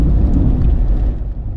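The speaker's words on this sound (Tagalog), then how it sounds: "Mukhang umuulan sa unahan natin" Rain drums on a 2007 Honda Civic FD 1.8 driving through Quezon, a dense low wash of water and road rumble, steady and loud across the brief moment.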